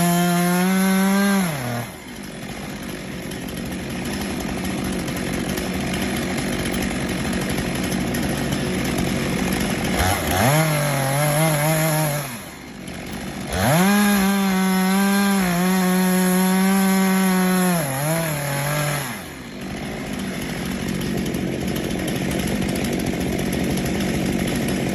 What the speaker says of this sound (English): A worker carefully uses a steel chainsaw to cut into a large tree trunk adjacent to the houses.